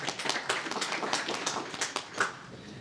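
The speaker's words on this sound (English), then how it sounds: "So a big applause to Jill as well" Scattered clapping from a small audience at a talk on artificial intelligence and design, applauding the graphic designer: a few distinct hand claps at uneven intervals, fairly close and light rather than a full ovation.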